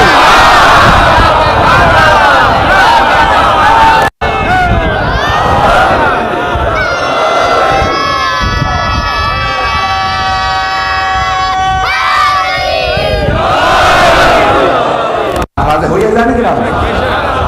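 A majlis audience in Malir chants religious slogans in unison, loud roaring crowd voices rising and falling in waves, with a brief pause and then renewed shouting.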